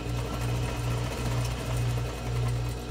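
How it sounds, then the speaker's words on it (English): A sewing machine backstitches fabric for a box-style face mask, running in quick pulsed bursts that stop and start with a steady low mechanical whirr throughout. "And then again, you're going to backstitch."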